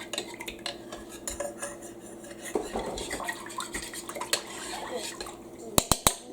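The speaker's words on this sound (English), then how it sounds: "you just want to stir the gravy mix up" Gravy mix stirred with a spoon in a cup, giving soft scraping and light clinks of metal against the cup, closing with a few sharp taps near the end.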